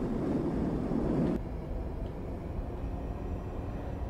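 An electric Solaris Urbino 12 city bus in OMSI 2 gives off a soft, steady motor hum and airy whine over low road rumble, louder at first and then dropping to a quieter continuous drone.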